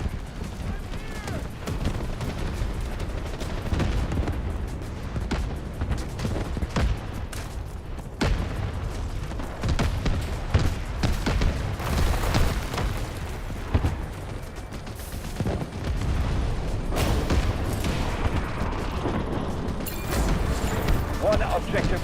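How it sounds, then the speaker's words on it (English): Dense booms and rapid gunfire fill a frantic battle in the video game Delta Force, artillery barrage explosions thudding continuously under steady weapon noise, with voices talking over the din throughout. "Artillery barrage incoming."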